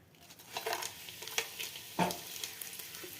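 Bay leaf and whole spices frying in oil for a vegetable pulao, giving a soft, steady sizzle with a few sharper crackles and stirring scrapes, close and fairly quiet.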